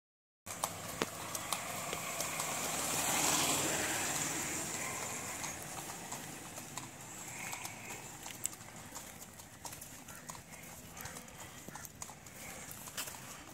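Steady clip-clop of horse hooves trotting continuously over a rushing background noise in Kodaikanal, moderately loud, with no one talking.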